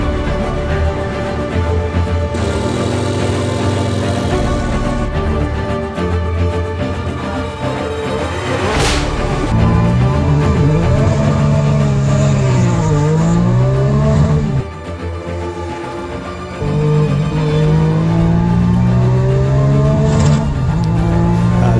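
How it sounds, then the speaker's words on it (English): The TAG Turbo art car, carrying Stefan Johansson's Formula 1 engine in the back, is driven hard. Its engine revs up and down through gear changes and rises and falls in pitch, loud and close throughout, with a sharp burst partway through. "this is the Tag Turbo, so this actually has Stefan Johansson's F1 engine in the back of it"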